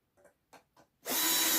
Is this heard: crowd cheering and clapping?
no